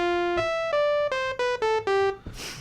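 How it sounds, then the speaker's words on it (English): A Thor synthesizer in Reason 7, on its initial patch, plays a short sequence of bright, buzzy sustained notes stepping in pitch, clean and close, finishing with a brief noisy burst. "throw in a Thor synthesizer there. You get the initial patch. It sounds kind of like this."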